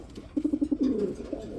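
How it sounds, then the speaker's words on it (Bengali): Beauty Huma pigeons coo in a short run of repeated low notes, then a longer rolling coo, close and fairly clear, with no talk over them. "এইখানে আমরা এক জোড়া বিউটি হুমা কবুতর দেখাবো বন্ধুরা"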